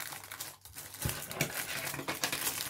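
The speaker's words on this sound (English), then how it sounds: "that's too much crinkling" Packaging crinkles up close while bead embroidery kits are unboxed, a dense run of crackling rustles and small plastic snaps with a few sharper clicks, no talk.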